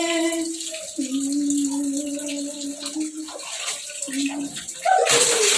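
Cold water is poured and splashed during a bath, running under a drawn-out wailing voice, then bursting into a loud, close gush at the end.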